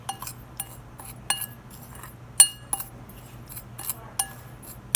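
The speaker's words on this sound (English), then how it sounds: "We're going to mix all the dry ingredients together." Bright metallic clinks and taps of a utensil against a bowl while dry seasonings of salt, black pepper, cayenne, paprika and garlic salt are mixed, scattered irregular strikes close by over a quiet room hum.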